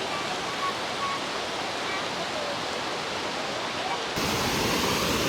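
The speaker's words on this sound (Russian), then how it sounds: "Очередной водопадик." A small waterfall in the Ordesa valley of the Pyrenees roars as a steady broadband rush of falling water, close and constant, getting slightly louder near the end, with no talking.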